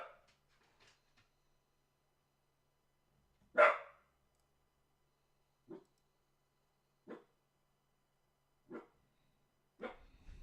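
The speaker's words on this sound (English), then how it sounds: "I don't know what Max is barking at." A dog named Max barks in single sharp woofs spaced a second or two apart, fairly close and otherwise in a quiet room, with a louder bark among them.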